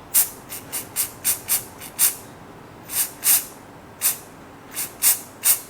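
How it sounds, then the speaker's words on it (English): Silicone spray is hissed onto a go-kart side pod bar bush on a Tony Kart Rookie EV in a dozen or so short, sharp bursts, some quick and clustered, others spaced apart, close to the microphone. "we're going to use a little bit of silicone spray on the bush to get it to slide onto the bar nice and easy"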